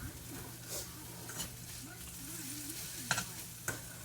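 Onion cooking in butter sizzles softly in a pan with a few stirring scrapes and clinks, a quiet steady hiss under a low hum.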